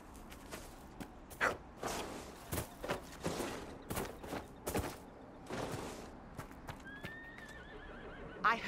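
A chestnut purebred Ferelden Forder horse in Dragon Age: Inquisition gives a loud whinny amid steady clip-clopping hooves and creaking tack, with a sharp neigh rising near the end.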